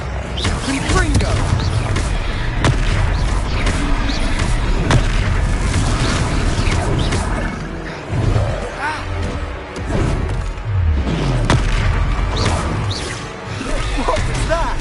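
Confringo fire-spell blasts in the Hogwarts Legacy video game land as repeated booming explosions with whooshes and crashes, loud and dense throughout a battle, with brief game voices mixed in.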